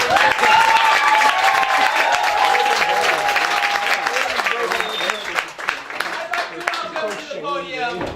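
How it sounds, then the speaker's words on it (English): Audience applauding and cheering at an improv comedy show in a black box theater, a dense, steady wash of clapping that holds loud for several seconds before thinning out toward the end. "Let's cheer our politicians back."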